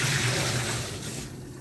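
No-rinse sanitizing solution for home brewing pours out of a brewing-kit vessel in a steady, close splashing stream that slowly tapers off.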